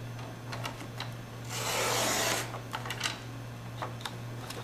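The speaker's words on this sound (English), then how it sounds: "So just stick it in your trimmer." A paper trimmer slices the punched-hole strip off the left edge of a page in one smooth rasping cut lasting about a second, with light handling clicks before and after against a steady background hum.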